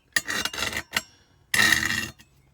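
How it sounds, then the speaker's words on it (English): Two rough, raspy scraping bursts of a spatula dragged over an unsanded, rough Ozark Trail cast iron skillet, with a short scrape between them; close and fairly loud, no voices. "This is what my cast iron skillet sounds like before sanding."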